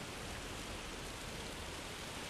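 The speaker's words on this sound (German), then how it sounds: "Der Regen ist zu stark." Heavy rain in the horror game Haunted Horror Asylum: a constant, dense, hissing downpour at low level, unbroken and even throughout, with no voices.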